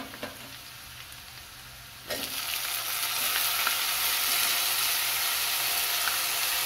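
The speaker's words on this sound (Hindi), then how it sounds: "मैं इसमें टमाटर डालती हूँ आंच धीमा करके" Chopped tomatoes going into a hot pan for masala pasta: a quieter sizzle jumps into a loud, steady frying hiss with bubbling that keeps building, close up with no talking.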